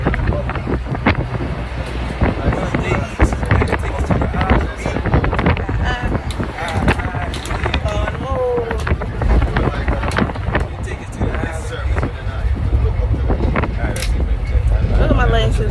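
Wind blows outdoors by the ocean, buffeting the microphone in a loud, constant low rush while people talk over it.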